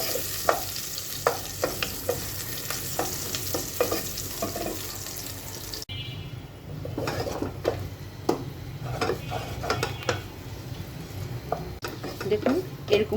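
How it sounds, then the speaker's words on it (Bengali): Whole small garlic cloves fry in a pan with steady sizzling, broken by repeated spoon scrapes and stirring clinks, loud and close throughout with faint background voices. "এই যে আস্ত ছোট ছোট রসুনগুলো আস্ত কোয়া দিয়ে দিলাম এখানে। একটু ভেজে নিতে হবে।"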